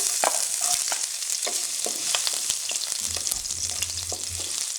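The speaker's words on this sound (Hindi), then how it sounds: "अदरक लहसुन और हरी मिर्च भी इसमें ऐड कर देते हैं।" Ginger, garlic and green chili sizzle in hot oil with whole black pepper, cloves, cardamom and cinnamon for smoked chicken, a steady bright crackle with occasional stirring clinks and a low hum near the end.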